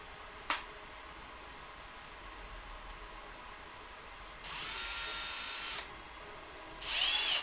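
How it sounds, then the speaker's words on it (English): A power drill drives into a part of a model rocket's thrust vector control mount, running in two short whirring bursts, the second cut off at the end, with a faint click before them and quiet room noise between. "I can drill it in real quick"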